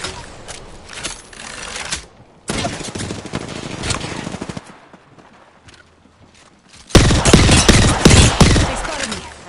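Gunfire in a video game: rapid clattering bursts of shots in three loud bouts separated by quieter gaps, with the final burst the loudest and densest.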